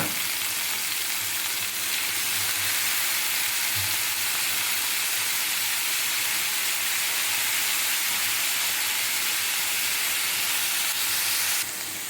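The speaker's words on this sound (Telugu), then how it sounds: "ఆనియన్స్ కొంచెం ఫ్రై అవుతున్నాయి కదండి" Onions frying steadily in a pan for a chikkudukaya (broad bean) curry, a continuous even sizzle and hiss with occasional faint pops, close and alone with no talking.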